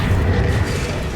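Rumbling, booming game effects from Hogwarts Legacy as the Accio summoning spell is cast: a loud, continuous low roar with no clear separate hits, close up and alone.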